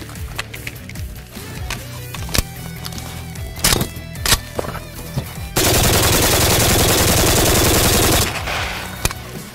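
An RPK machine gun fires a long sustained burst of rapid shots outdoors, preceded by scattered single shots and short bursts, loud and close.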